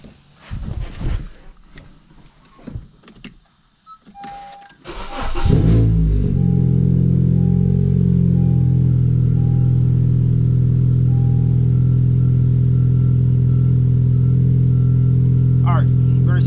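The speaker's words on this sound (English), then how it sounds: "gotta turn the car on." A 2015 Honda Civic Si cranks and fires up about five seconds in, then settles into a loud, steady idle hum that carries on alone to the end; a brief voice is heard before the start.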